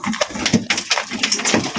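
Pigeons kept for racing make soft cooing and rustling close by, with irregular wing flutters and bird calls scattered through the moment and no talking.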